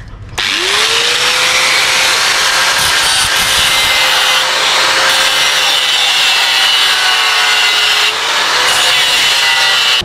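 A power tool cuts through thick-gauge metal sheet with a loud, continuous grinding whine that starts abruptly and holds steady, its pitch dipping slightly near the end.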